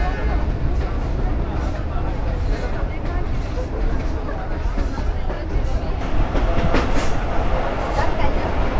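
A Mongla commuter train passes Navaran railway station in Bangladesh with a steady, loud roar of wheels and carriages that swells slightly near the end, while someone talks over it.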